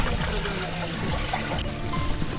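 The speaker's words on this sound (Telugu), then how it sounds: "ఇప్పుడు వాటర్ అంతా తీసేసి ఎంత ఉందో చూద్దాం" Acid water poured out of a tubular inverter battery trickles and splashes in a steady close stream, brief and continuous.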